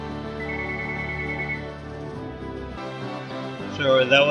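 A mobile phone rings nearby with a sustained electronic melody that plays for a few seconds and then ends.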